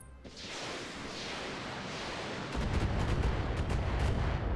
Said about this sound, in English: They're shooting Tex.